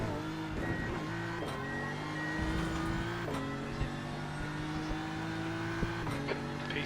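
A GT3 race car leaves the pits in a racing video game with a quiet engine whine that climbs through the gears in stepped pitches and is broken by a few short clicks, all fairly faint and with no talk.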